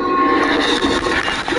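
Train rolling along tracks in the Spider-Man Miles Morales video game, a loud steady rumble with a bright horn-like tone running through it.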